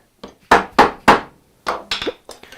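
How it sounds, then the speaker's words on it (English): Chisel work on a wooden compound dovetail joint: six sharp, close mallet strikes on the chisel, three in quick succession and then three more after a brief pause, each ringing off with a short woody crack. "Now I can do all the chisel work from this side."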